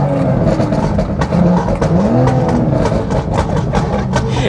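A BMW M140i revs hard and loud close by at a VMAX200 top-speed event, its engine note rising and falling in sharp bursts with a throaty roar throughout.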